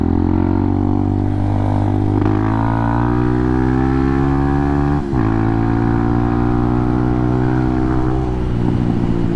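Honda Hawk 250 motorcycle riding in third gear, a loud, close engine drone whose pitch climbs steadily, dips briefly at a shift or throttle change around midway, then keeps rising, with continuous wind rush.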